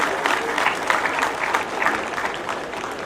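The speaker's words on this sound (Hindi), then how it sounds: "मेरे साथ सभी तालियों की गड़ाहट से उनको सम्मानित करें" An outdoor crowd at an Independence Day celebration applauds medal winners with dense, steady clapping throughout.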